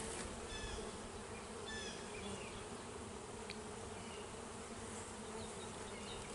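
Honeybees buzzing close by during a hive inspection while an InnerView inner cover is installed: a dense, steady, continuous drone with no talk.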